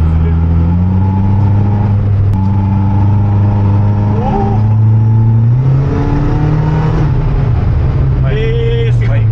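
A circuit-spec Subaru R1 kei car accelerating at full throttle, its engine droning steadily and rising in pitch through the gears, heard loud from inside the cabin with someone talking over it.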